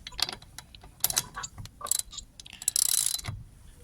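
A ratchet with a 17 mm socket on a Citroen C3 Aircross wheel gives quick bursts of clicking in short groups, close and crisp, with a longer run of rapid ratcheting near the end.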